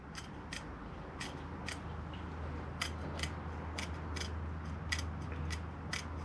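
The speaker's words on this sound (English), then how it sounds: "trim this pre-made screen down to size" Scissors trim a pre-made mesh screen to fit the bottom of a bonsai pot, giving a series of crisp, irregularly spaced snips over a quiet background hum.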